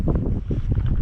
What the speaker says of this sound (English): it's not blowing like a gale